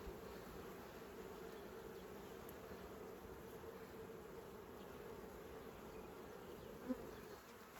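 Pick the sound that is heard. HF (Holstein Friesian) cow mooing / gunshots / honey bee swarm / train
honey bee swarm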